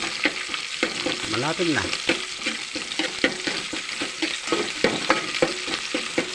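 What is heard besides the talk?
stirring vegetables and fried fish frying in pan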